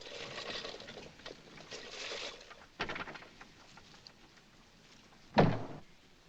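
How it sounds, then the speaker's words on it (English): An interior door in an old house is shut with one sharp, fairly close thud near the end, after quieter shuffling and a softer knock earlier. "Come in. Shut the door."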